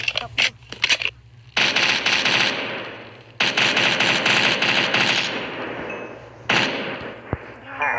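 Minecraft gunfire with the TACZ gun mod: loud, dense bursts of rapid automatic shots in long sustained volleys separated by brief pauses, with a few single cracks near the end.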